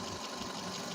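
A car air-conditioning compressor runs after its dual pressure switch is reconnected, giving a faint, steady, rapid mechanical whir and rattle throughout.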